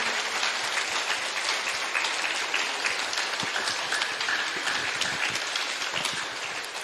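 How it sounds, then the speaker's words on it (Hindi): Hearty audience applause closing a group meditation session, a dense continuous wash of many hands clapping at an even level from start to finish, with no voices over it. "जोरदार तालियां"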